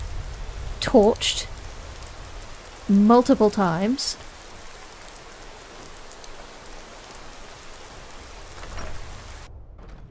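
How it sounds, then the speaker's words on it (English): Rain falls in the video game Skyrim as a steady, even hiss throughout, with brief voices speaking over it near the start. "And now it's raining."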